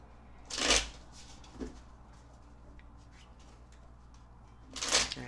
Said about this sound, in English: I am going to shuffle these cards just a few more times.